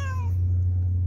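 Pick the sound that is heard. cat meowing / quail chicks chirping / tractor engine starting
cat meowing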